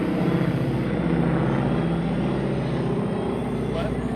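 Loud, continuous helicopter rotor and engine drone passes close overhead, steady throughout and drowning out everything else.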